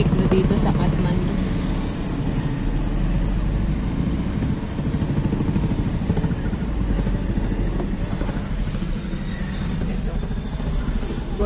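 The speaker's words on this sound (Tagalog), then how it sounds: "Ayan, daming motorsiklo dito sa Kathmandu." Busy street traffic in Kathmandu, many motorcycles running at once, makes a constant engine drone and rumble with no break, close and moderately loud.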